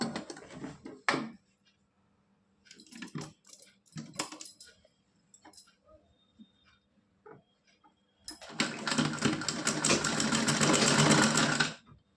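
Sewing machine stitching lace onto a small doll dress for a Laddu Gopal kurta-dhoti outfit: faint clicks and handling at first, then a loud close run of rapid stitching near the end.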